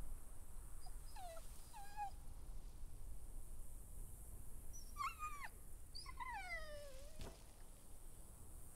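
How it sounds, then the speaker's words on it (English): A dog whimpers and whines in The Walking Dead: The Final Season video game, a few short high-pitched cries followed by a longer falling whine over a steady background hum. "Assuming that was kind of his dog."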